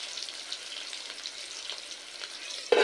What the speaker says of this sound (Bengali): ঢাকা দিয়ে আলুটা মিনিট 2 ভেজে নিতে হবে।